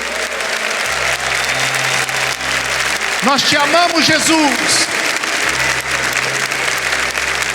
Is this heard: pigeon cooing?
no